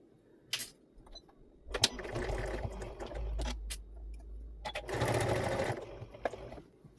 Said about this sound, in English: So let's go to the machine and sew this little bit.